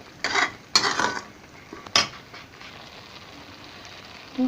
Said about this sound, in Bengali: ভালো করে এটাকে নেড়ে নিলাম